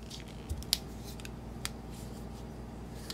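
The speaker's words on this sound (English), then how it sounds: "Here are the scissors." Small scissors on a multi-tool pocket knife snip a few times, giving sharp, brief metallic clicks spaced out against a quiet background.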